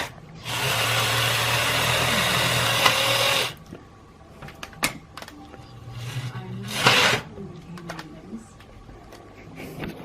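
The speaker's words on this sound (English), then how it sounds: "the only moving parts in this thing are the slides, the crates, and the track vehicles." Vintage Tyco US 1 Electric Trucking toy set running, a loud steady electric motor whir lasting about three seconds, then scattered clicks, rattles and a shorter whirring burst as the track vehicles and slides move.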